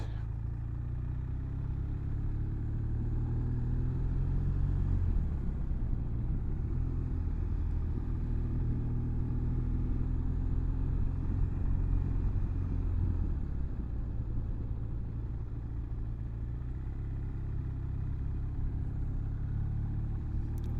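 A 2016 BMW R1200R motorcycle rides and pulls into a small park. Its low engine rumble holds steady and close throughout, with slight shifts in pitch as it slows.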